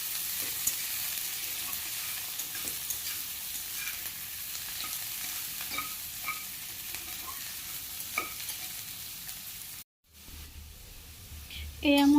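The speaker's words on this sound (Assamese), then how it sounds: "এয়া মোৰ পিঁয়াজখিনি ভজা হৈয়ে গৈছে।" Onions sizzle in hot oil while being stirred, giving a steady close hiss with light scraping. A short silent break comes near the end, then a louder burst of handling noise.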